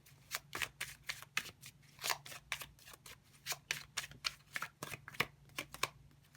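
A deck of tarot cards is shuffled by hand in a quiet room, giving a steady run of crisp riffling bursts in a quick, even rhythm, close and fairly soft with no talking.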